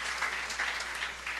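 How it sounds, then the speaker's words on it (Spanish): A church congregation gives a round of applause at the close of a sermon, an even, sustained patter of many hands heard from a moderate distance under a low steady hum. "ríndele una fuerte ofrenda de aplauso"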